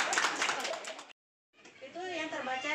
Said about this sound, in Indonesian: Tepuk tangan untuk Ibu.